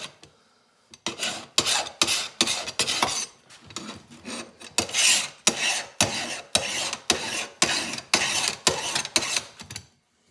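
A hand file rasps across the blade of an old 8-inch Bay State draw knife in about fourteen steady, close strokes, each a bright scraping burst with short pauses between.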